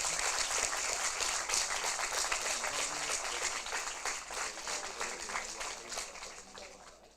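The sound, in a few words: audience clapping after a resolution announcement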